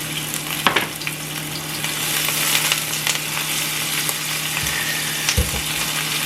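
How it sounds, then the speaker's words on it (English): Onion sizzling in a hot pot for a brown stew, a steady close frying crackle with occasional stirring scrapes and clinks. "it's hot, I'll put some of the onion so it can start to stew up the onion a bit"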